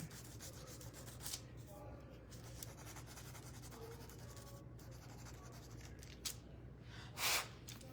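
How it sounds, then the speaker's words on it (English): Sandpaper rubs by hand along a wooden spindle painted with a rope pattern, a soft steady scratching in quiet, close and faint, with a small scrape near the end. "I'm just gonna sand direction that the rope is going."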